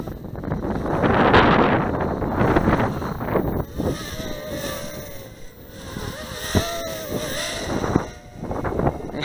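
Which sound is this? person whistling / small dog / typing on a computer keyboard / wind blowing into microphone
wind blowing into microphone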